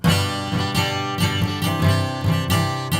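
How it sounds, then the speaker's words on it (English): Close, loud acoustic guitar picked near the bridge, a brighter and thinner tone with several rhythmic strums and repeated attacks across a few seconds, heard alone without talk. "Now I'm playing at the bridge."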